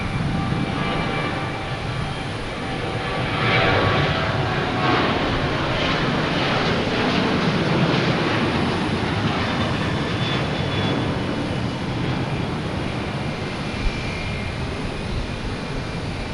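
An Alaska Airlines Boeing 737-900 arriving from Seattle at Boston Logan Airport, a steady broadband jet roar that holds loud and even throughout, swelling slightly mid-clip as it passes, with no talk over it.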